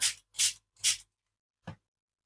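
Three short hissing bursts of spray paint over a Gelli plate print in a quick rhythm, close and fairly quiet, followed by a faint tap.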